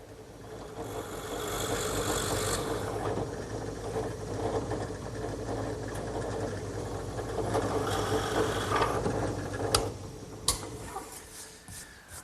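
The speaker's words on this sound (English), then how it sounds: "now I'm going to drill those 3/8 inch counterbores" A power drill whirs continuously, boring 3/8-inch counterbores into wood with a steady grinding drone that rises slightly in the middle, followed by a few knocks as it winds down.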